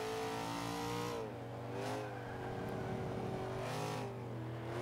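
Nissan Silvia Spec R in Forza Horizon 5 revs steadily, its engine note climbing and dipping in two clear surges before settling back, a continuous loud in-game drone with no voices.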